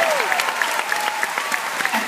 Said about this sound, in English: Can we clap for them?